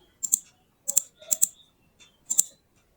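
Someone types commands on a computer keyboard in quick bursts: four clusters of crisp, close key clicks with short pauses between them, alone in a quiet room.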